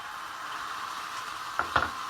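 Sirloin steak placed into hot oil in a pan, a quiet steady sizzle with a couple of brief louder crackles near the end.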